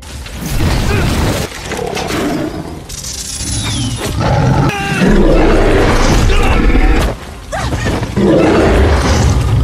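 A monstrous wild tiger in a fantasy action film roars in long, heavy, rumbling bursts, loud and close, layered with crashing impacts and dramatic film sound effects.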